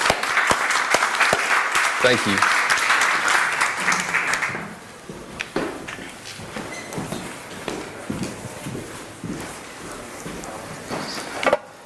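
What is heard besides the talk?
audience applauding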